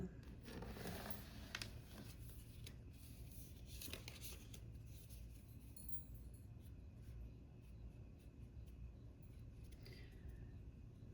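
Soft papery riffling and crinkly rustles, close and quiet, like cards being shuffled, with a few sharper snaps scattered through.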